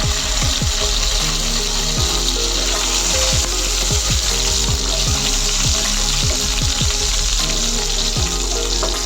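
Garlic frying in a pan for a colocasia leaf curry, a loud dense sizzle close up with a stream of rapid clicking, rattling ticks throughout.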